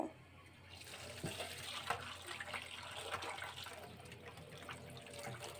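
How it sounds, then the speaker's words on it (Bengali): Raw fish, rinsed with salt, being rubbed and washed in water for a home-cooked lote fish and potato dish; steady faint splashing and running water throughout, with no voices. "মাছটাকে একটু কষলিয়ে কষলিয়ে ধুতে হবে"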